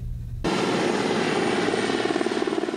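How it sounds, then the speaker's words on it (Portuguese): An Army Pantera 225 military helicopter roars loud and close, its steady rotor and turbine drone kicking in abruptly after a brief low rumble and continuing without pause. "O helicóptero modelo Pantera 225 do Exército trouxe de São Paulo o ministro da Defesa"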